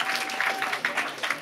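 A live studio audience at an improv comedy show claps in a short, dense burst of applause, fairly close and steady throughout.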